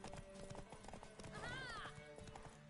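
Horse hooves clip-clopping in The Witcher 3, a brisk rhythmic run of hoof strikes with a horse whinnying midway, ambient game sounds underneath.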